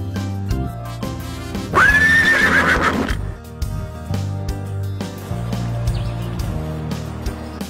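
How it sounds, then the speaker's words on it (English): A cartoon horse gives one loud, rising and falling whinny that lasts about a second and a half. Cheerful children's music plays before and after it, with no speech. "Horse."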